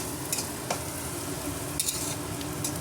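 Ginger garlic paste frying with potatoes in a pan for aloo fry, a steady low sizzle broken by a few brief stirring scrapes, close and moderately quiet with no talk.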